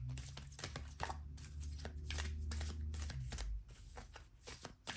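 Tarot cards are shuffled and handled from a deck, giving a quick run of crisp papery riffles and slides close by, with a low steady hum beneath and no talking.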